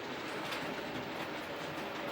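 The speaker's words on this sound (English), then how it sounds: "It's got the proper clickety-click of a real" A model 00 gauge train runs along its track with a continuous close rattling clickety-clack, steady and moderately loud throughout, no voices.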